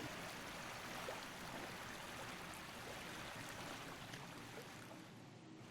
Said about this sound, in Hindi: दरिया के पानी की आवाज़ को सुनिए